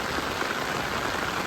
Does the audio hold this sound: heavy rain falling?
yes